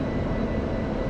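An F-16 jet in the DCS flight simulator game, heard as a steady, loud, low engine roar that stays constant and unbroken, with no talk.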